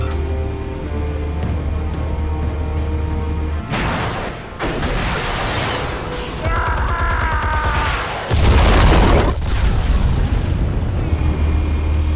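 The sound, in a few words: explosion from Batman The Telltale Series video game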